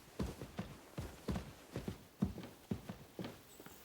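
Horse hooves clip-clop at an easy walking pace in the medieval game Kingdom Come: Deliverance II, about nine soft, close thuds landing in a steady uneven rhythm with no talk over them.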